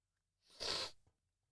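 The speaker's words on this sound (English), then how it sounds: "Somebody was thinking about me really, really hard, and it made me sneeze." A single sneeze bursts out close up, a brief, sharp blast of breath that rises and cuts off within about half a second, surrounded by silence.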